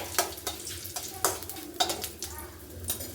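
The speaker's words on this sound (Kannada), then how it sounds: "ನೋಡಿ ಹಾಗೆ ಆಲೂಗಡ್ಡೆ ಹಾಕ್ಕೊಳ್ಳಿ, ಫ್ರೈ ಆಗಲಿ ಎಣ್ಣೆಯಲ್ಲಿ" Potatoes and peas sizzle in oil in a pan, with repeated sharp scrapes and clinks of a spoon stirring them and a soft crackle running underneath.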